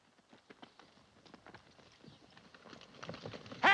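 Horses' hooves clip-clopping in a classic 1948 Western, a quick run of light, uneven hoof beats that starts faint and grows louder as the horses draw nearer, ending in a sharp burst.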